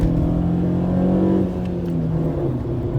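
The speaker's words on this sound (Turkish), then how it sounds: "Araba rampa çıkıyor ama sanki baş aşağı gidiyor." Fiat Marea car engine droning steadily as it climbs a gentle uphill road during a test drive, the engine note dropping slightly halfway through, loud and close throughout.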